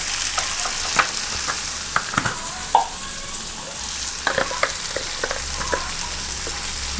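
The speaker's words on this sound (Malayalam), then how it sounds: "ഒരു ചെറിയ സ്പൂണിന് ഇഞ്ചി. നമുക്ക് നന്നായിട്ട് വഴറ്റണം." Ginger sautés in a hot pan for an egg thoran with small shallots, a close, continuous sizzle broken by sharp scraping clicks of a spoon stirring against the pan, with no voices.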